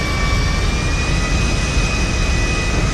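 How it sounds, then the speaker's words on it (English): A passenger airplane's jet engines whine and roar steadily while the plane taxis toward the gate in a Los Santos game setting, a continuous loud drone with a thin high tone above it. "The plane hasn't parked yet."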